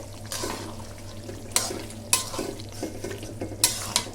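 A curry being sautéed and stirred in a pan, with steady soft sizzling and several sharp scraping strokes of a spoon against the pan, close up and with no talking.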